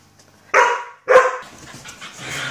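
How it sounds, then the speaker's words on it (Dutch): A dog barks twice in quick succession at close range, two sharp loud barks followed by quieter rustling and faint background noise. "Ik denk dat ze dat blaffen niet zo leuk vindt"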